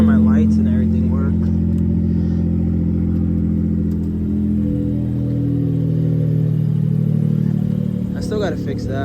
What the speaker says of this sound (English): this is the first start with the new ECU